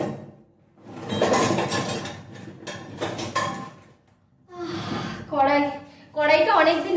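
A kadai wok is pulled out and handled among kitchen utensils in a new flat, giving a few brief metallic clanks and knocks mixed under steady conversation.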